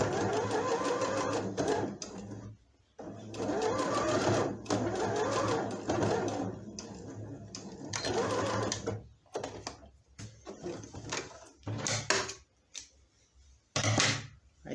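A sewing machine stitching fabric for a baby elephant pillow, running in several bursts of rapid mechanical whirring separated by short pauses, close and fairly quiet, with a few clicks and handling noises between runs.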